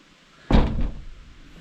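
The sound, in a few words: wooden cabin door opening and closing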